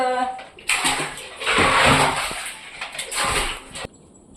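Water pours and splashes steadily over solar panels as they are scrubbed clean, a close rushing wash with a few brief dips and a clatter near the end.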